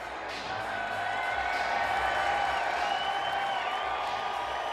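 Stadium crowd at the Clash at the Coliseum NASCAR race applauding and cheering for driver Kevin Harvick, a broad sustained roar with whistles and whoops holding steady throughout.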